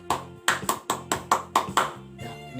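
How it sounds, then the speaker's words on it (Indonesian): Indonesian Pramuka scout clap: a group pattern of sharp hand claps in a quick rhythm, about seven distinct claps with short gaps, close and clear. "ini 1 kali tepuk Pramuka"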